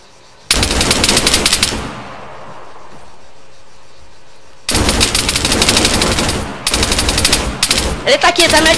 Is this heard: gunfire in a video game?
yes